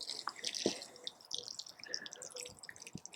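Water drips and trickles from a watering can made from a converted milk container onto compost in a seed tray. The drops are faint and irregular, heard close up and alone.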